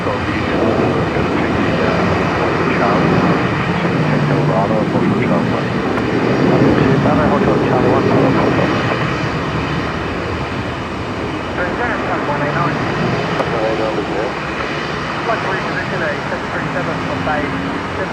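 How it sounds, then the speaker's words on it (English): A noisy Saab turboprop arriving at Brisbane Airport at twilight drones loud and steady throughout, its engine tone swelling slightly midway, with a person's voice heard over the sound at times. "We got a noisy Saab inbound."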